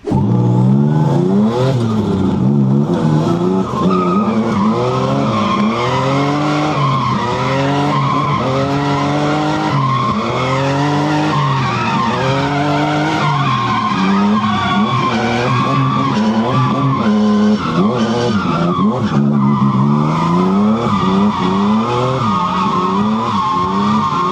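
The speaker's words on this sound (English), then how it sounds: "So here's a few more clips of me drifting" Cars drift on a skid pan, with tires squealing in long wavering howls over revving engines that rise and fall repeatedly, loud and close throughout, with no speech.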